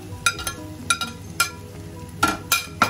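Onions with curry leaves frying in a pan give off a faint steady sizzle, broken by several sharp, close clinks and scrapes of a spoon against the pan; no talking.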